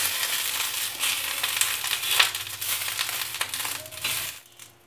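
Brinjal (eggplant) pan-roasts in a covered pan with a steady crackling sizzle, continuous and close, fading out at the end with no talk.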